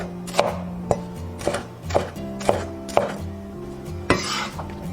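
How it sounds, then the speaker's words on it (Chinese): A kitchen knife chops celery and green and red peppers on a cutting board: six crisp, evenly spaced strikes, close and distinct, with quiet gaps between them. "西芹洗净，斜刀切断。 准备切一些青红椒备用。"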